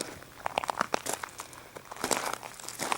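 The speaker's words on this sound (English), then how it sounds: "So you can probably hear my feet crunching on the gravel here." Footsteps crunch on loose gravel outdoors, a steady walking rhythm of close, gritty crunches with no talking.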